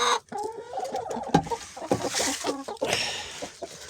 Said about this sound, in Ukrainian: Ось наші курочки.